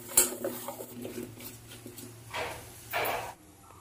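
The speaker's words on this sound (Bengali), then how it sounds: "ওই গ্যাসের মধ্যেই কড়াইটা বসিয়ে দেব" A metal kadai set down on a gas stove in a home kitchen gives a sharp clank near the start, followed by softer scrapes and two brief hissing bursts.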